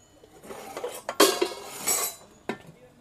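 Metal pots, pressure cooker and utensils from a household kitchen kit clank and clink together in a few quick, close handling bursts, with brief pauses between.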